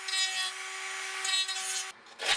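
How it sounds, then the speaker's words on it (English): A small rotary drum sander smooths the cut fiberglass edges of a dummy engine for a Gilmore Red Lion Racer model, a close, steady high-pitched whine with rubbing grit that stops suddenly near the end. "Edges are then cleaned up with a small drum sander,"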